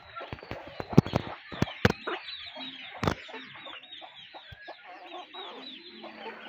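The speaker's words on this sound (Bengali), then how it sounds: "দেখেন মোরগ আর মুরগি খাচ্ছে এবার, সুন্দর একটি কালারফুল মুরগি।" Chickens and a rooster cluck softly and irregularly while pecking at feed on a farm, with sharp close pecking taps and scratching in the first seconds, then quieter scattered clucks.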